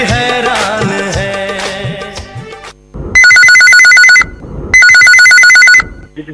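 Telephone ringing for a radio phone-in request show: two loud, steady electronic rings with a pause between them, coming after a stretch of music.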